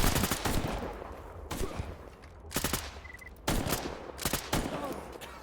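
Bursts of gunfire from a busted weapon in Stalker GAMMA, several loud rapid volleys separated by short pauses, close and sharp over a low background rumble.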